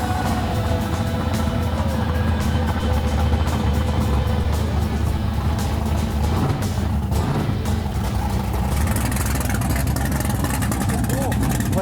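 Race car engines idle at a drag strip start line before a rat rod versus GTO race, a loud, steady rumble close by that lasts throughout, with people talking over it.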